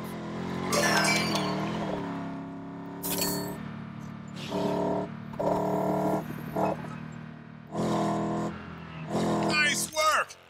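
A LEGO car drifting in LEGO 2K Drive, with bursts of tonal engine and tire sound rising and falling in short repeated stretches, interrupted by brief bright clinks and game effects.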